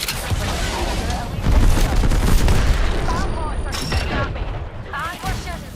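Bursts of gunfire and booming blasts in a shooter video game, a dense, loud rattle through the middle that thins out, with voice chat and whistling effects over it.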